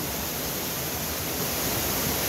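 Mahogany Falls in Trece Martires, Cavite pours in a steady, dense roar of rushing water that fills the scene evenly from start to finish, with no voices.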